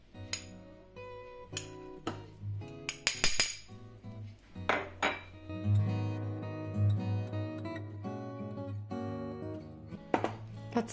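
Metal utensils clink and scrape against a bowl in irregular bursts as baking soda is stirred into sour cream, with stirring and tapping sounds close up and no talking.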